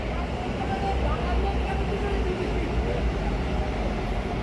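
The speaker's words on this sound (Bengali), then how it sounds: "ওকে আমাদের ট্রেন এসে যাচ্ছে এখন।" A Kolkata metro train approaching an underground station platform, producing a loud continuous low rumble and roar, with people's voices faintly mixed in.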